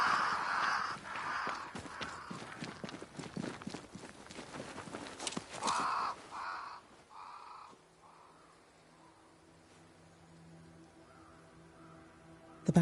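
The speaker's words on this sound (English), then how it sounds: "crows. They flock to that great tree up there." Crows cawing near a great tree, several harsh caws ringing out at intervals over scattered footsteps and rustling, fairly close, before the scene settles into a quiet hum.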